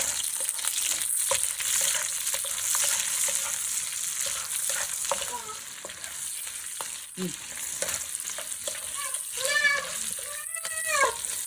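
Green chillies and curry leaves sizzle and fry in oil in a pan with whole spices, a continuous crackling hiss with occasional stirring clinks and bursts of spattering, close and steady.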